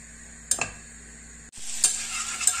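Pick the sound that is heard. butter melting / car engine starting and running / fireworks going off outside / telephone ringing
butter melting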